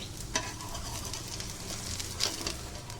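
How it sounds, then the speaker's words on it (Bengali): Tiffin snack frying in a pan with just a spoonful of oil, a soft steady sizzle broken by two brief scraping flips of the pieces, close and quiet. "এবার এইরকমই উল্টে পাল্টে আমি ভেজে নিচ্ছি"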